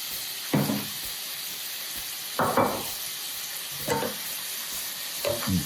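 Meat browning in a pan for Cajun dirty rice, a steady sizzle with four bursts of louder stirring and scraping spaced a second or two apart, close and with no talk.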